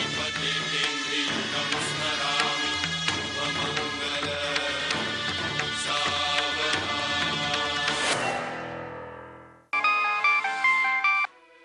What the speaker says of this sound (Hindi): कुहू का फोन है।